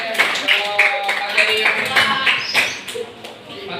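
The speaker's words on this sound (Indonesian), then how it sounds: "tepuk tangan untuk kita semua" Classroom applause for a chemistry lesson on chemical bonding: a burst of scattered hand claps mixed with voices talking over it, moderately loud and close.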